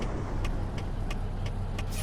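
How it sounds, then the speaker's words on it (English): A car passing on the road in American Truck Simulator, a steady low engine and road rumble with faint repeated clicks over it, with no voices. "I got a car coming."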